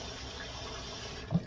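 Water runs steadily from a tap to wet a double-edged safety razor between shaving passes, a continuous close hiss with a faint splash near the end.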